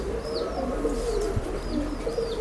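Pigeons coo repeatedly at a pet shop pigeon sale, soft rolling calls with a few higher chirps over a steady low background hum, no talking.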